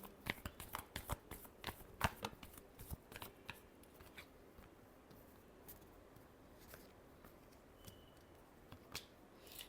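Tarot cards are shuffled close up in a quiet room, with a rapid run of crisp riffling snaps early on that thins to scattered soft flicks and taps.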